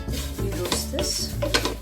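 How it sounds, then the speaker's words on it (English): Poha roasts dry in a hot large pan while being stirred, giving close scraping and shuffling strokes with light clinks against the pan in quick irregular bursts. "As we roast, we can see the color changing."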